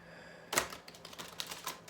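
Oracle cards are shuffled close by, with a sharp riffle followed by a few light, quick papery clicks and flutters, faint and with no talking.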